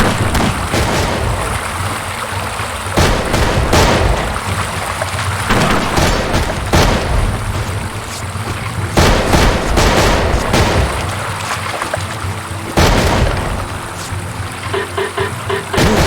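Gunfire and explosions in a video game battle, with dense rapid bursts and heavy booms layered continuously over the whole stretch, loud and chaotic with no clear pauses.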